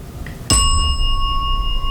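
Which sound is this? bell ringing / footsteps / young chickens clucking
bell ringing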